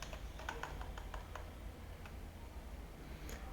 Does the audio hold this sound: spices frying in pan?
no